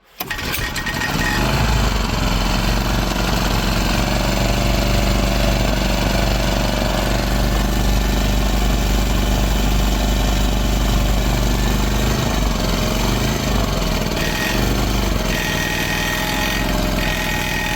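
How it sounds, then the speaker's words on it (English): A Toro T800 portable generator engine, freshly fixed after carburetor work and loaded by a space heater, runs steadily and loud after a quick start, its low droning hum constant with no talk. "Now that space heater is a little bit too big of a load for this generator, but I got it running."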